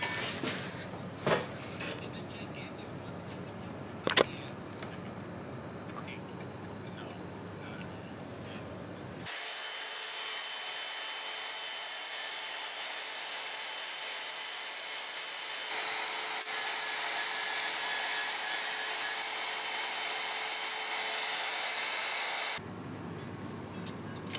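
A bandsaw with an old, welded-back blade cuts a workpiece for a prop power sword, a steady loud hiss and whine running for long stretches, stopping briefly and then resuming, with a few knocks earlier.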